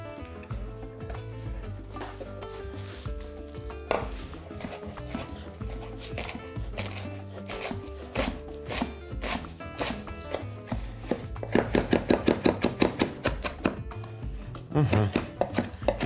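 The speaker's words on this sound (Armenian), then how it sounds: "Մանր կտրատում ենք։" Fresh basil and green onion are finely chopped with a knife, for cheese-filled pan-fried khachapuri. Quick rhythmic taps come in bursts against a steady background, growing denser and louder toward the end.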